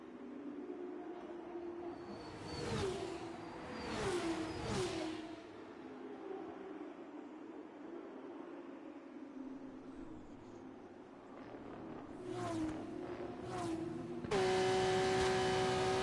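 An onboard race car engine drones steadily at the driver's position, rising in a few surging whooshes as it passes other sounds, loud and continuous with no talk.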